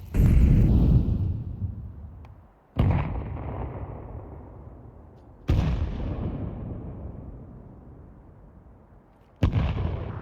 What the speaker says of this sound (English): Just nades going off all across the map.